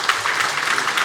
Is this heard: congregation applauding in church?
yes